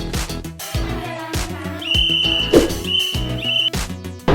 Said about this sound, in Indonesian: Sedangkan peluit yang banyak ditemui saat ini adalah yang terbuat dari plastik ya guys.